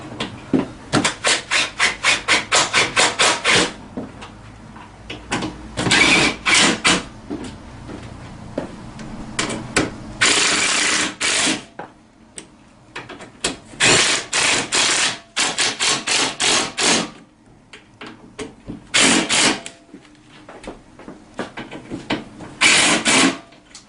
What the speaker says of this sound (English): Now I'm going to go ahead and just start ratcheting them down.